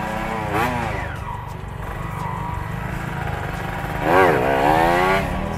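A Yamaha MX King motorcycle engine idles with a steady, close drone, then revs sharply twice under throttle, each rise climbing in pitch and then settling back.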